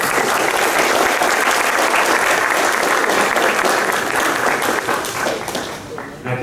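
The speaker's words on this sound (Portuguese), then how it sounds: "eu solicito uma salva de palmas para o INCRA." An audience at a talk on rural land georeferencing and certification applauds for INCRA, with steady, dense clapping that holds loud for about five seconds and then starts to thin out toward the end.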